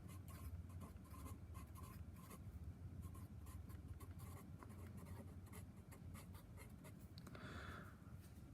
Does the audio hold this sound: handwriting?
yes